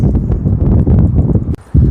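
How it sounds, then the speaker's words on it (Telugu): Donkeys walking at a travel stop in Great Yarmouth, their hooves clip-clopping in a steady, close run of knocks over some wind rustle, with a short lull near the end. "గాడిదలు గాడిదలు చూడండి అన్ని గాడిదలు ఉన్నాయి ఇక్కడ ఎన్ని గాడిదలు ఉన్నాయో"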